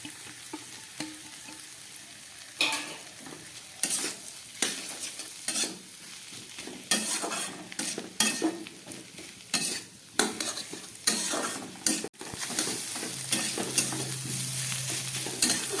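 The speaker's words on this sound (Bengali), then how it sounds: "এবার এই যে ভেজে রাখা পটলগুলো আমি দিয়ে দিচ্ছি।" Pre-fried pointed gourd pieces are stirred with spices in a pan for a vegetarian dish, giving a steady sizzle broken by repeated scraping strokes and the occasional knock of a utensil, with no talking.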